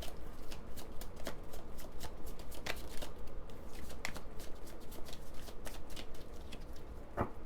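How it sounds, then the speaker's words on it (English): Tarot cards are shuffled on a shaking table, close and crisp, with repeated riffling bursts and sharp taps in an uneven rhythm. "my table is shaking as I'm shuffling"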